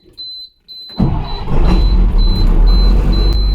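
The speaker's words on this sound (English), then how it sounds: "The bus starts, but like what is that?" A large school bus diesel engine turns over and roars to life after a few high-pitched electronic beeps, then keeps running loudly with a low rumble.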